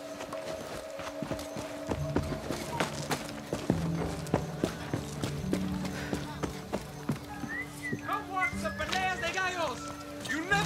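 Horse hooves clip-clop in the Far Cry 6 video game, a steady rhythmic run of hoofbeats under game music and a speaking voice, close and moderately loud.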